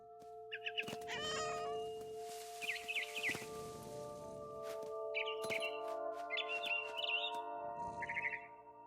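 Cat meowing in the video game What Remains of Edith Finch, several short repeated meows in bursts across the clip alongside bird chirps, over a steady tonal game background with no talking.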